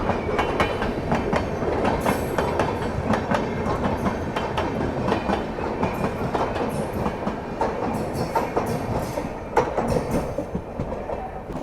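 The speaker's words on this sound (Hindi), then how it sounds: "बिल्कुल पीछे पीछे ट्रेन आ रही थी अपने" An Indian express train rolls along the rails with a loud, continuous rumble, rhythmic clickety-clack of the wheels and occasional metallic squeals, heard up close from on board.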